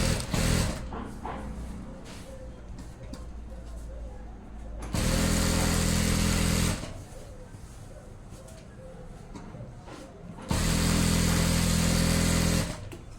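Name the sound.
sewing machine stitching side seams of pants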